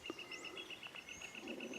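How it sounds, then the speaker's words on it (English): Birds sing and chirp faintly outdoors in a quiet lupin field on a hillside, with a repeated high trill and scattered calls drifting in from a distance over soft ambient hiss. "You can hear all the birds in the background."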